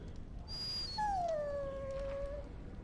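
A dog whimpers in the Dragon Age: Origins video game, with a single long, drawn-out whine that gently falls in pitch and is preceded by a few higher squeaks, over a low background hum.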